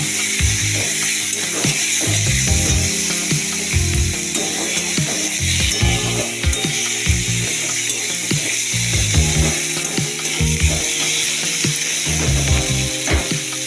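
Turmeric, chili, coriander, cumin, ginger paste and salt frying in a pan for a rohu fish curry, stirred with a continuous clattering scrape of the spoon over a loud, close sizzle.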